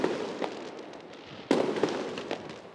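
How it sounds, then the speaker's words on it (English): New Year's fireworks in Wales crackle and burst, with a sharp loud bang midway followed by scattered pops and crackling. "While there were some fireworks in Wales"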